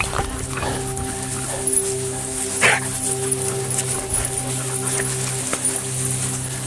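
Several dogs bark and yip in short, scattered bursts over a steady droning hum, fairly close.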